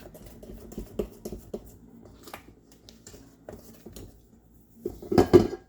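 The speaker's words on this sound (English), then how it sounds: "Now beat that off because I want to get all that cake mix off there." Mixer beaters knock against a bowl while cake batter is shaken off, a series of clinking metal taps that grows into a louder cluster of knocks near the end.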